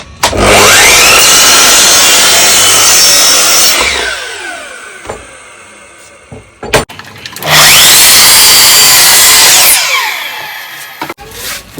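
Power saw cutting through a wooden board for a simple storage box, two loud sustained cuts, each revving up, biting into the wood and winding down, with a brief quiet gap between them.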